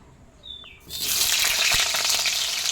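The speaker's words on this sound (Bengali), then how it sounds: "তেলটা গরম হলে আলুগুলো ছেড়ে দিচ্ছি" Cut potatoes slipped into hot oil for a chicken dish: after a quiet moment and a faint clink, a sudden loud burst of sizzling starts and carries on steadily at close range.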